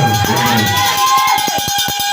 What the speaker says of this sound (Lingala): Est-ce que tu peux acclamer très fort pour le Seigneur Jésus?